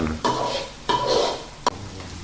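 Egg and canned fish stir-fried in oil in a pan, with a continuous sizzle broken by three sharp scrapes and knocks of the spatula against the pan.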